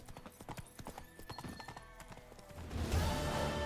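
The horse Roach in the video game The Witcher 3 walks with a rapid, fairly close clip-clop of hooves, followed by a louder, rushing swell at the end.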